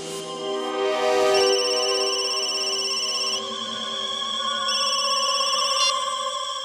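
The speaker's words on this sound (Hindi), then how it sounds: "उसके मोबाइल पर एक कॉल आया था" A mobile phone rings with an incoming call, a bright electronic ringtone melody repeating steadily and loudly over a sustained tonal backing, with no voices.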